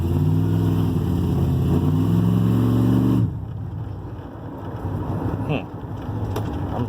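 A 1988 GMC Sierra barn-find pickup truck's engine runs steadily with a loud, harmonic idle drone for about three seconds, then drops to a quieter, rougher running sound.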